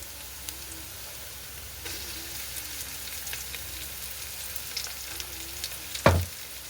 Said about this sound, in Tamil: நாங்கள் இடித்து எடுத்து வச்சுருக்க இந்த இஞ்சி உளியையும் இதோடு சேர்த்து வதங்க விட போகிறோம்